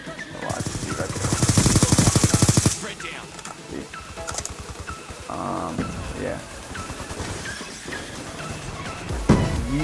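Rapid automatic gunfire rattles in a fast burst in a first-person shooter game, followed by scattered single shots and game effects, with a voice talking over the action.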